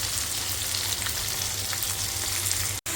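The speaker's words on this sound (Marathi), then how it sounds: "फोडणी मस्त तडतडलेली" Garlic, green chilli, tomato and curry leaves crackle in hot oil with a pinch of coriander powder and turmeric, a tempering for dal. The sizzle is loud and close, broken by a sudden cut just before the end.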